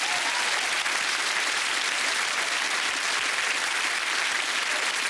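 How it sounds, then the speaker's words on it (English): A TV studio audience on the game show Celebrity Squares applauds, a dense, even wash of clapping that stays loud and steady throughout. "Give him a round of applause for it."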